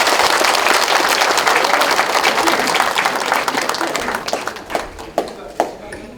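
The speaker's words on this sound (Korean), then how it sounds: "박수 한번 주시죠" A hall audience at a provincial governor's town meeting with residents in Boeun applauds loudly and densely, the clapping thinning out into a few scattered final claps.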